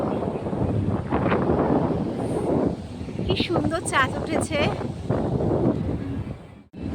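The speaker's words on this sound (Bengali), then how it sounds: "প্রচন্ড হাওয়া" Strong wind by the sea at night buffets and roars steadily throughout while a person talks over it, with a few brief high whistling tones in the middle.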